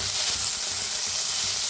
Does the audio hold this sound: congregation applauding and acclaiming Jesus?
no